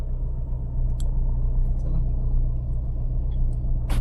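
A car engine rumbling low and steady as the car starts moving during a driving lesson, with a few light knocks and a person talking over it.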